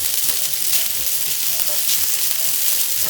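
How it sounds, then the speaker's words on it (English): Garlic, butter and cooked rice with pepper and salt sizzling in a hot pan, a continuous close, even hiss of frying with faint stirring, no voices. "once you see the garlic sizzling, I'm going to add some pepper, salt and this cooked rice"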